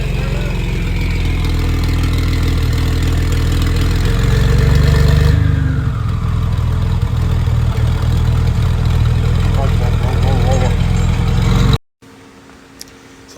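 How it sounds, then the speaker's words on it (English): A Ford F-150 EcoBoost engine with an aftermarket exhaust runs loud and close, a deep steady drone that swells as revs rise, with turbo whine over it, then ends abruptly and a quieter scene follows. "You can hear the turbo though."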